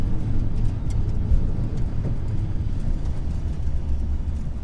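Low, steady engine rumble comes from a 2000 Ford Mustang Cobra R driven at low speed, a constant drone with faint wind and road noise and no changes in revs.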